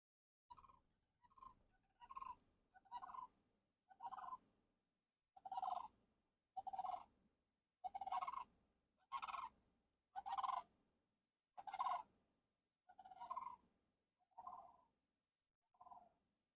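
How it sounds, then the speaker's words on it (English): Geese kept on a farm call in a rhythmic series of about a dozen honking calls, loud and close, with brief pauses between them and no talk. "Brian Ferris, I think your geese are here."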